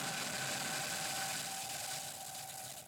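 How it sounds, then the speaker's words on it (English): SpaceX Crew 5 rocket engines at liftoff, a broad, steady roar filling the whole range that eases slightly toward the end, with no voices. "Ignition, engines full power, and liftoff."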